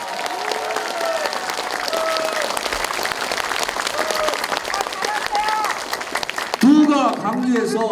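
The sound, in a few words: audience applause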